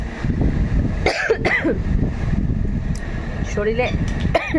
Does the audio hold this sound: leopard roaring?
no